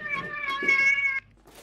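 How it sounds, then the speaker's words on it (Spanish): A house cat gives one drawn-out, tonal meow lasting about a second, close and clear, followed by a soft rustle. "El gato de verdad."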